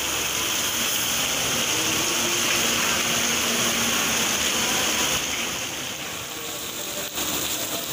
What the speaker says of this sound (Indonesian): hujan makin deras.